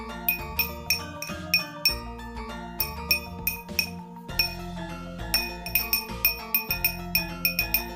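Glass objects struck as a musical instrument ring out in a bright, rhythmic melodic pattern of clear chiming notes with sustained tones, close and steady with a short pause midway.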